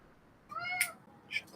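A house cat gives a short, quiet meow, then a second brief chirpy mew, faint and close in an otherwise calm room with no talking.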